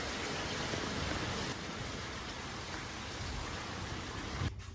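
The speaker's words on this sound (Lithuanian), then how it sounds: "Skalbiniukai išdžiauti, bet lietus lyja." Rain pours down steadily outside lodgings where laundry has been hung to dry, a continuous broad hiss of water on surfaces with no voices, holding even throughout before a slight shift at the very end.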